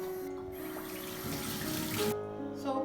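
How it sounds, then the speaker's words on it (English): Tap water running steadily into a cooking pot for a Nigerian garden egg stew, a close continuous splashing stream that stops abruptly near the end. "Just add little water"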